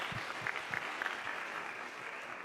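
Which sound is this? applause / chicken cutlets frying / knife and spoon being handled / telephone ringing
applause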